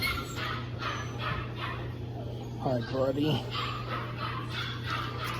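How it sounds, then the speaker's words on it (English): Friendly puppies at a rainy stop in Ohio's Amish Country make soft whimpers and small yips close by, under a person's cheerful talk and steady background hum. "We got puppies."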